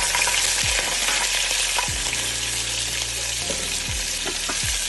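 Green chili fries with cumin and mustard seeds in hot oil, making a loud, dense sizzle close by. Several low thuds from stirring come every second or so, and there is no speech.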